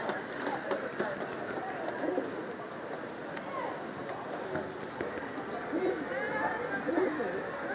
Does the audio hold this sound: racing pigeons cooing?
yes